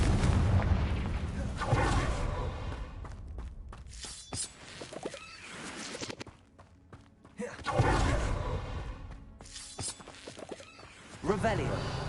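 Booming blasts from the Confringo spell in Hogwarts Legacy, several heavy explosive impacts spaced across the span amid combat noise and game sounds, fairly loud and close.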